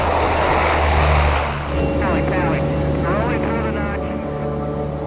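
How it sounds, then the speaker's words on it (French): OV-10 propeller spotter aircraft flying overhead on patrol, a loud droning engine whose pitch sweeps as it passes, with a voice talking over it. "L'avion de contrôle patrouille le ciel à la recherche de Clark."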